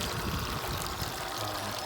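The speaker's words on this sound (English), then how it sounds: "One is I made a sprinkler or a water fountain." Water sprays and splashes continuously from a homemade fountain on an above-ground pool, a faint, steady wash of falling water.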